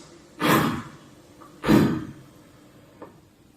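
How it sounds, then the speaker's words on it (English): Two short rescue breaths delivered during a CPR demonstration, each a strong breathy whoosh about a second apart, close and alone with faint small breaths after, no talking. "Pinch the person's nostrils and deliver 2 short breaths"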